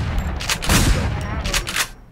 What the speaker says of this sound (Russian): Вот стрельбу сейчас точно слышал.